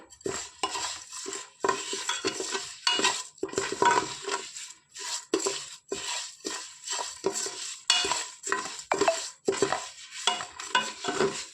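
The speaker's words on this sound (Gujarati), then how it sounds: "આ રીતની આપણે બધી જ લાપસીને સરસ રીતે શેકી લેવાની છે." Broken wheat lapsi roasting in ghee inside a pressure cooker, stirred with a metal spoon that scrapes and clinks against the pot in steady rhythmic strokes, with a light sizzle underneath.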